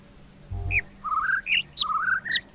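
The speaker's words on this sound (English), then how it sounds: "we're still sat here listening to the same birds over and over" Bird song plays as part of a sound puzzle in a game: a string of short, clear whistled notes that rise and fall, with brief gaps between phrases.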